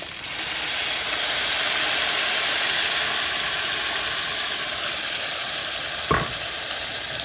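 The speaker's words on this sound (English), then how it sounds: "You're going to hear a sizzle." Water and blended liquid hit toasted estrellitas pasta in a hot pot, a loud, close, continuous sizzle that slowly softens, with one brief knock of a utensil near the end and no talking.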